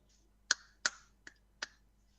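A small child claps hands four times, sharp close taps with a slightly uneven rhythm over a quiet background, and no talking during the claps.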